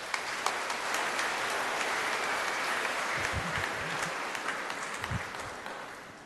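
A church congregation claps loudly during a Filipino homily, a broad, sustained sound of many hands, fairly even throughout before trailing off at the very end, with a few low thumps mixed in and no speech.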